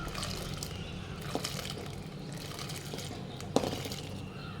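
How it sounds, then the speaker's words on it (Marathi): Hot water poured slowly onto sago pearls in a kitchen to make potato-sago papad batter, a soft, steady trickle at low volume with a couple of faint clinks, no talking. "पाणी गरम असतं हळू टाकायचं"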